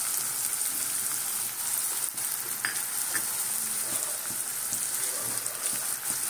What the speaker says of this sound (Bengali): এগুলো ভাজা হয়ে যাবে, লঙ্কাও ভাজা হয়ে যাবে, এগুলোও ভাজা হয়ে যাবে